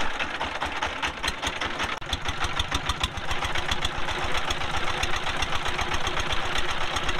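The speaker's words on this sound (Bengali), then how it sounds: "এবার মেশিন চালু করে নৌকাটি ছেড়ে দিল" A small boat engine on the Dudhkumar river in Kurigram fires up and settles into a fast, even put-put chugging, loud and close, running alone without voices.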